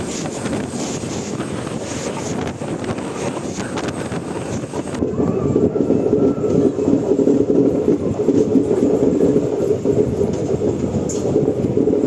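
Mysuru–Sengottai express train at Sivakasi railway station, a steady loud rumble of a passing train mixed with heavy wind buffeting the microphone, continuous for the whole stretch.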